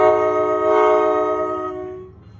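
NJ Transit train horn on train 5431, one long loud sustained blast heard close by, with rumbling train noise underneath, fading toward the end.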